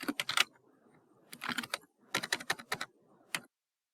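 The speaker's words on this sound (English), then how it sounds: "For demonstration purposes, I'm just going to type in mine." Bursts of quick clicking keystrokes on a computer keyboard as an email address is typed, three clusters separated by short pauses, ending with a single key press, close and clear with no talk.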